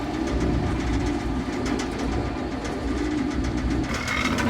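Diesel train rolling on rails in Colorado, a loud steady rumble with rhythmic wheel clatter over the joints and a brighter squeal toward the end, no talk.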